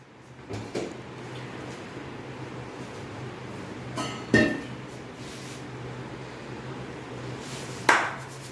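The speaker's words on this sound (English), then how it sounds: "I'm going to use the lid, and I'm keeping a weight on top of this" A lid goes onto a pot of dum-style chicken and a weight is set on top, producing two clanking metal impacts several seconds apart over a quiet kitchen background.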